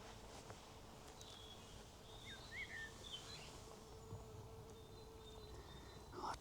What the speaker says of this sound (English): The sound of bees and the birds singing